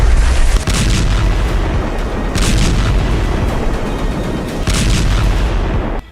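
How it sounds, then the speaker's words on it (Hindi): Israeli air strikes blowing apart buildings in Gaza, heard as heavy deep booms and rumbling blasts that roll on continuously at high volume, with sharp surges near the start and around the two- and four-second marks. "गाजा पट्टी और वेस्ट बैंक में हवाई हमलों में फिलिस्तीन और हमास के लोगों की इमारतें तरबूज की तरह फट रही हैं।"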